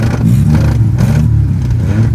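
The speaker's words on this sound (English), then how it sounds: "You doing a burnout over there?" A car does a burnout in an inexpensive-car shootout, its engine revving loud, low and sustained with rough rumbling pulses, close and continuous.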